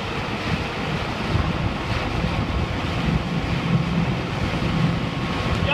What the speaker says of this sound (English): Hang on, we got some waves here, Stephanie.